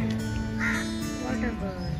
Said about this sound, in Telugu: Wow, so many birds. Water birds.